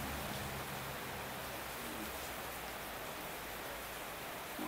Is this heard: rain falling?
yes